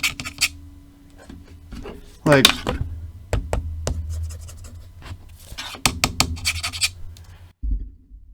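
Metal speaker grill on an old Apple speaker being scratched, rubbed and handled, with irregular close scraping, knocks and rasping, while someone talks at times.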